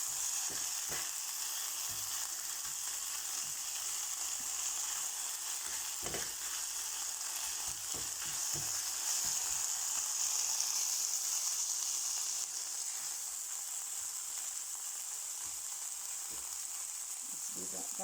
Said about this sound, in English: So I'm just frying this up now.